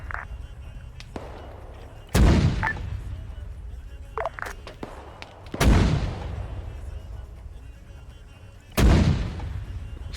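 Mortar fire in the Arma 3 military video game, three heavy booming impacts spaced a few seconds apart, loud and close, with lighter pops and game noise between them.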